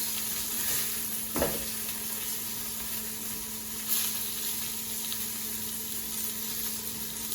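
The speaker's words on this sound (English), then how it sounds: "Let's flip those burgers." Cheeseburger patties sizzle steadily in a hot pan at close range, a constant crackling fry with brief louder spikes as they are flipped.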